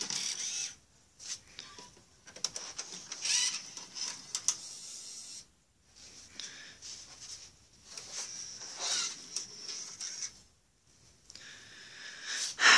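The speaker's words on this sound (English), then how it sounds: "the motor's dying because it doesn't swing this way as fast as you saw" A small electric motor swings a device's head back and forth, a faint whirring in repeated bursts separated by brief pauses, the motor sounding weak and slow as it fails.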